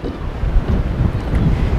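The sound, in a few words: cold wind by the sea at Oido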